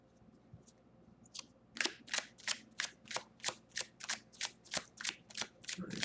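Tarot cards are shuffled and picked, with a fast, even series of about a dozen crisp riffling snaps close to the listener after a quiet start.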